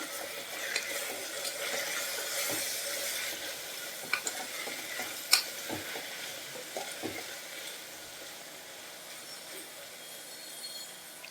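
Capsicum masala curry ingredients with chilli powder being stirred in a pan, a soft steady sizzle with scattered scraping and tapping of the spoon, moderately close and without voices.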